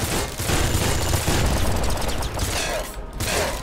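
Rapid splinter pistol fire in the game Nuclear Throne, a dense unbroken volley of sharp crackling shots with bursts of impact noise, loud and continuous for several seconds with no talking over it.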